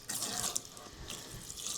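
Water running from a sink tap during a professional shampoo and head massage: a steady hiss of flowing water with small splashing surges. The sound is moderate in level and continuous, with no talk.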